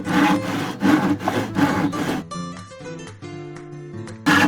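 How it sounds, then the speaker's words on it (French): A hand saw rasps through pallet wood in several rhythmic back-and-forth strokes, close up, then pauses while a faint tone hums before one more stroke. "une fois que la scie est prise dans l'encoche, normalement, on y va."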